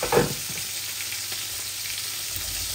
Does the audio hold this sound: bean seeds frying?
yes